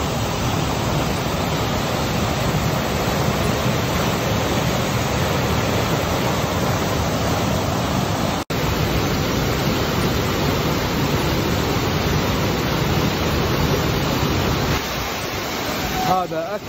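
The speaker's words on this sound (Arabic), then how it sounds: "هذا أكبر شلال في كوسوفا، تيارات الهوائية قوية جدا اللي جاء من الشلال وباردة." The largest waterfall in Kosovo roars as a loud, unbroken rush of falling water, with strong cold air currents buffeting the microphone, steady throughout with one brief dropout midway.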